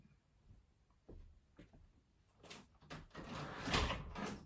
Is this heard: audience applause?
no